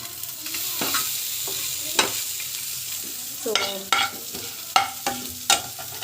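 Onions and ground masala frying in a pan, a steady hissing sizzle broken by several sharp scrapes and knocks of a spatula stirring, close, with no talking.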